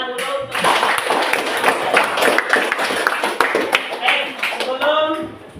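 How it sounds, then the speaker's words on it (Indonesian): Students in a school physical-education class clap their hands together, a lively uneven burst of close clapping mixed with taps and some background chatter. "silakan kasih tepuk tangan dulu"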